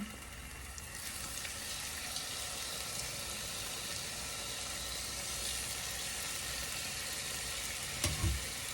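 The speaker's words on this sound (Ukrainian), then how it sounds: "трошки буде шуміти, бо буду смажити курочку" Steady sizzling and crackling of chicken frying in a pan, a constant hiss throughout, with a brief clatter near the end.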